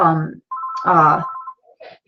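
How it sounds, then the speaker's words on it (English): A phone rings indoors, a steady electronic ringing tone that cuts in and out between and beneath a woman's speech. "I don't know why this phone's ringing"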